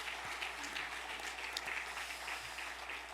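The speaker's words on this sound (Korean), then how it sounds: "뜨거운 격려 박수 한번 보내겠습니다" A church congregation at an autumn special dawn revival service claps together in a steady, moderately distant round of applause that holds evenly throughout, with no talking over it.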